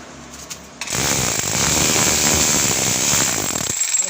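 Rotary hammer drill set to chisel mode driving a ground rod into hard soil: after a short quiet lead-in it kicks on abruptly into a loud, dense, rapid hammering that runs steadily for about three seconds, then cuts off.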